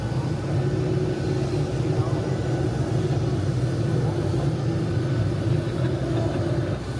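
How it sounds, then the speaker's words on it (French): A Ryanair airplane takes off, a loud sustained engine roar with a steady low rumble and broadband rush, heard from a distance and holding constant throughout. "Tu as un décollage en direct"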